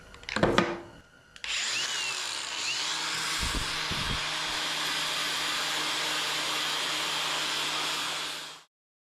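An angle grinder fitted with a worn grinding disc strips weld spatter and paint from metal: a few sharp knocks first, then a steady, close whine for about seven seconds before cutting off abruptly.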